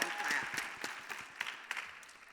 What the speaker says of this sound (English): She said don't clap, but you can clap.